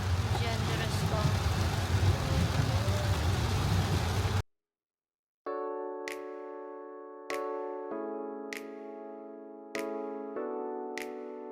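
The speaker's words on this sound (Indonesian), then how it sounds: "Hujan deras banget." Heavy rain pounds steadily on a car during a road trip from Bali to Jogja, a dense, loud wash of noise that cuts off abruptly. After a brief silence, a few ringing musical notes follow.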